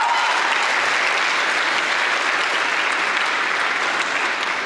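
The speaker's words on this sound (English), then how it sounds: "Let's give them a round of applause." Steady applause from a large audience at a 2019 high school graduation ceremony, dense clapping holding at an even level for several seconds with no talk over it.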